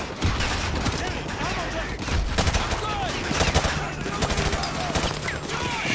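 Rapid gunfire in Call of Duty: Modern Warfare 2 (2009) Remastered on PC, close and loud bursts with whizzing ricochets and explosions, under occasional voice.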